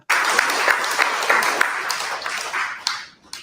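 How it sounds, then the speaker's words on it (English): Audience applause at a panel discussion on trans issues, steady dense clapping for about three seconds that fades out near the end. "Let's all clap for that."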